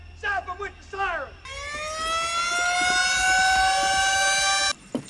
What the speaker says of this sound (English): Stop them with your siren, man. Stop them with the siren.